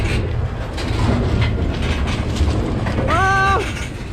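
A moving train rolls past with a steady rumble and rattle throughout, and a brief horn-like tonal blast sounds near the end.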